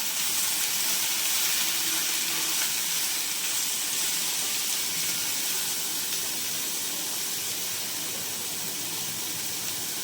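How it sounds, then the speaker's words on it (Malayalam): Chopped onion and green chillies frying in a pan for an okra masala fry, a continuous steady hiss and sizzle throughout, close and even. "ഇനി അതിലേക്ക് ഒരു സവാള അരിഞ്ഞതും 2 പച്ചമുളക് അരിഞ്ഞതും കൂടി ചേർക്കാം. എന്നിട്ടത് ഇളക്കി യോജിപ്പിക്കാം."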